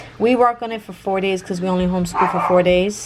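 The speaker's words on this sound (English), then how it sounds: "Excuse my dog barking in the background." A pet dog barks and yips in the background of a home language-arts lesson, short sharp barks recurring under steady close adult speech.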